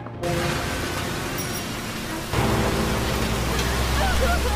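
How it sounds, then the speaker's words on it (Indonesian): Rain falls in a steady hiss, joined partway through by a louder, deeper rushing layer that continues to the end without pause. "Saat itu hujan"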